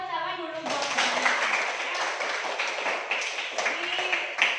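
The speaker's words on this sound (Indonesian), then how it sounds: "berikan tepuk tangan dulu buat ya" Classroom applause from students during an air pollution science lesson, a dense burst of clapping that starts abruptly and continues steadily for several seconds, fairly loud and close.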